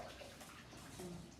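Hot cooking water, likely with shredded turnip for flat buns, poured into a colander in a home kitchen to drain: a steady, close, broadband splashing rush that lasts about a second and a half.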